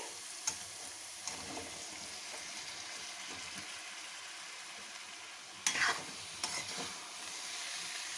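Fried potatoes and cauliflower stirred through cooked masala for dhaba-style aloo gobi: a soft sizzle runs underneath, with occasional louder scraping knocks of a spoon against the pan.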